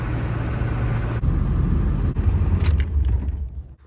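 A Honda CRF 50 dirt bike engine gives a steady, close, low rumble that keeps on with brief dips, then fades toward the end.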